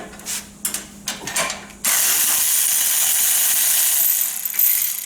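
A ratchet loosening a bolt on a 2009 Harley-Davidson motorcycle, first a few short clicking strokes, then a loud, steady run of fast ratcheting clicks close to the mic that continues to the end.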